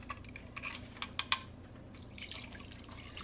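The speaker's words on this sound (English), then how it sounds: "1 can of water." A can of water poured into a cooking pot in a home kitchen for smothered beef tips makes a few soft splashes and drips, then a faint trickling, all quiet and close.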